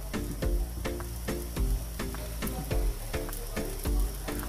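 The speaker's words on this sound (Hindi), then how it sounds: "तो अब इसे हम लो टू मीडियम फ्लेम में ऐसे ही फ्राई होने देंगे।" Three grated raw potato pancakes fry in a little oil in a pan over low to medium flame, giving a steady close sizzle with soft pops and spatters recurring about once a second, with no voices.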